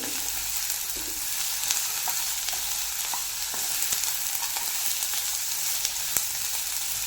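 Ridge gourd fries over a medium gas flame with a continuous dense sizzle, while occasional soft stirring scrapes and taps sound from the pan.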